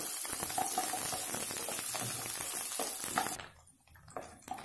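Drumstick masala sautéing in a pan gives a steady sizzle and bubbling hiss, close and fairly loud for about three seconds before dropping away to near quiet with a few faint stirring clicks.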